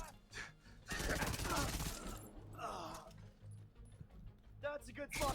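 Lady Death submachine gun fire in The Division 2, heard as loud bursts of rapid shots in the game's combat, with a voice talking over the action.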